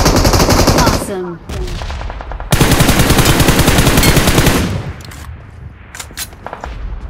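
Automatic gunfire in BGMI / PUBG Mobile as an M249-armed enemy is finished off: loud, dense bursts of rapid shots with a brief gap, then fading scattered shots and game noise.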